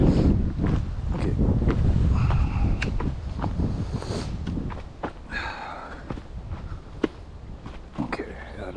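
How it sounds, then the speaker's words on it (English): Wind gusts across the microphone outdoors on a bush hike, a heavy rumbling roar that eases off partway through, with scattered footsteps, creaks and small knocks on top. "Okay, out of the wind."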